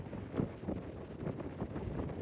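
Strong gusting wind buffets a microphone outdoors on a trail, a continuous rough rumble with uneven surges and no talk.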